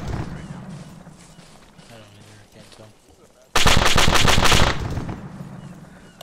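A .50 caliber machine gun fires in ArmA 3, beginning as a quieter, more distant rattle before a sudden, loud, close burst of rapid rounds that fades out, with radio chatter and a voice in the background.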